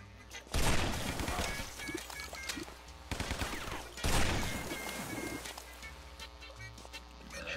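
Gunfire in the video game Guns, Gore & Cannoli comes as several loud bursts of rapid shots separated by short gaps, mixed with game sound effects and background music.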